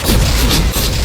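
A loud cartoon gunshot from a rhino-booger pistol in an animated fight scene, heard as a dense, close blast that fills the short moment with a dull booming roar.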